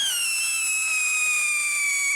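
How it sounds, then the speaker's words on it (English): New Year fireworks give off a continuous, shrill screaming whistle that holds steady and slowly drops in pitch for about two seconds. It is loud and close, with no talking. "Firecrackers."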